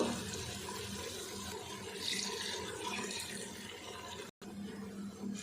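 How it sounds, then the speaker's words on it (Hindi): Water pouring steadily into a cooking pot for several seconds, a continuous splashing rush with a brief cut near the end. "डेढ़ गिलास पानी हमने डाल दिया।"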